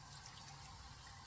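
Water is poured steadily into a cooking pot holding soaked chana dal and chicken, a continuous soft rushing stream that runs evenly throughout without a break.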